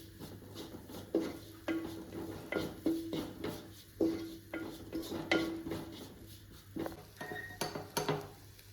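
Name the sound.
stirring garam masala for kothu porotta in a pan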